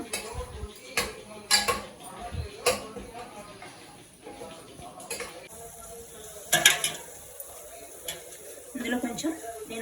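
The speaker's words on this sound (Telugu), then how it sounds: "ఈ గ్రేవీ అంతా అండి పచ్చివాసన పోయేదాకా ఫ్రై చేసుకోవాలి" Chicken pulao gravy frying in a pan, heard as a faint background sizzle under a talking voice, with intermittent clinks and scrapes of a spoon against the pan.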